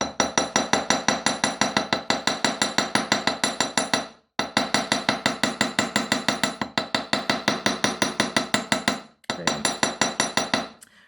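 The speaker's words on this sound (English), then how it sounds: "So we're going to hammer all the way along and hammer those the most, the spiral curls at the base." A metal hammer taps rapidly and evenly on wire spiral curls for wirework jewellery, a fast bright clinking run broken by a few short pauses, close and clear with no talking.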